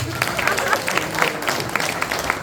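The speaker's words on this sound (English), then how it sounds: "Give him a hand clap, this young man" Applause for a young boy at a Buganda Bumu youth convention in London: a crowd claps steadily and fairly loudly, with no pause.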